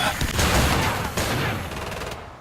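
Rapid gunfire from Killing Floor 2 bursts loudly and continuously for about two seconds, dense and sustained like a fusillade, before cutting off abruptly near the end.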